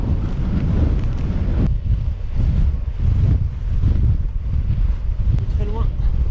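A strong headwind buffets a cyclist on an ultra-distance ride in western France, a loud, continuous low roar and rumble of wind against the microphone, swelling and easing in gusts throughout.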